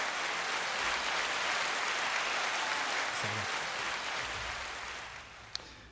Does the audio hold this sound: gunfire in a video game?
no